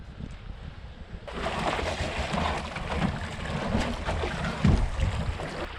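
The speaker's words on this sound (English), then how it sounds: "We're paddling away from our final site for this trip." A canoe is paddled across a lake in the Quetico wilderness. A soft, steady wash of water and wind swells after a quiet opening, with faint splashes and knocks from the strokes and hull.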